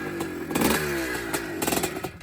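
1981 Maico 490 two-stroke dirt bike engine revving hard and close, with rapid repeated bursts of crackling throttle over a raspy idle.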